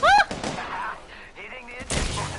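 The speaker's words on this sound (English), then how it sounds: "I'm getting shot at." Gunfire from a firefight in the battle-royale game Apex Legends, sharp bursts at the start and again near the end, with a player's voice talking over the shooting in between.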